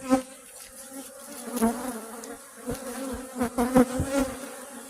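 Honey bees buzz around an opened hive, a close, wavering hum with swelling and fading passes as individual bees fly near, moderately loud and continuous throughout.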